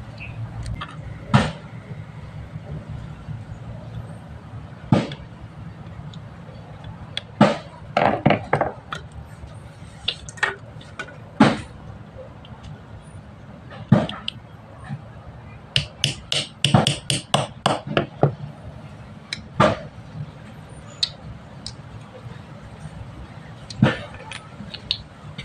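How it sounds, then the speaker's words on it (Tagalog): A nail is tapped and punched through a magnet for a boga build, giving sharp scattered metallic clicks and knocks, isolated at first and then clustered in a quick run of strikes, close and fairly quiet. "Bubutasan natin ng pako para may pasok to guys."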